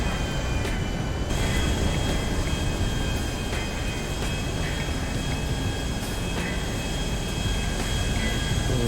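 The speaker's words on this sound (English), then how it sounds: "You can see here, guys, our plane is successfully imported here." A large modded airliner flying in GTA V gives a steady, loud broadband engine drone that holds without a break for the whole stretch, with no talk over it.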